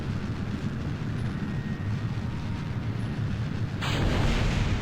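In Kerbal Space Program, a rocket's engines roar steadily as a dense, rumbling wall of noise, then a sudden brighter burst and a louder surge mark the side tanks separating.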